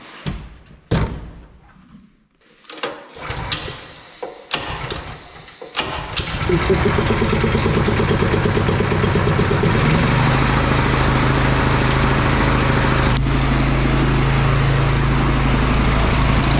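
A gas engine air compressor cranks with a few knocks and sputters, then catches and runs at a loud, steady drone with a low rumble, close by and uninterrupted.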